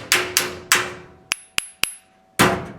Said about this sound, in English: And hear it hit the dolly.